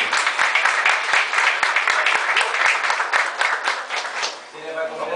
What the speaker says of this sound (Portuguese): uma salva de palmas pros Laszlo